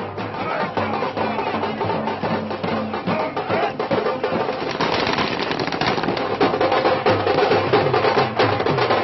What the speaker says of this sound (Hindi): दिल्ली कांग्रेस में आतिशबाजी की लड़ियां सजने लगीं